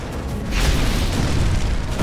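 A single grenade blast in Resident Evil 3 Remake, a loud, close, low rumbling boom that swells suddenly and rolls on without talk.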